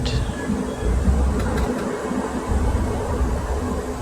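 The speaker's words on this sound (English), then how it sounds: "we are riding the N Judah train through through a neighborhood called the Sunset" San Francisco's N Judah train riding through the Sunset neighborhood, heard from inside as a steady loud rumble with brief rattles and clicks of the car over the track, no talking.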